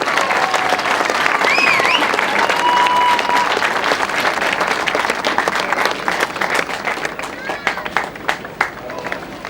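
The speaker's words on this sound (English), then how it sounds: "Give him a big round of applause again" A crowd applauds cyclist Matthew Lloyd at the King of the Mountain jersey presentation on the final stage of a bike race tour, steady clapping with some cheers and whistles that gradually tapers into scattered claps.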